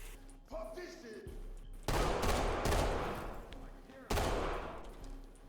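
Gunfire in the tactical shooter Ready or Not, with two loud, dense bursts of rapid automatic shots, each fading into echo, and quieter sounds between them.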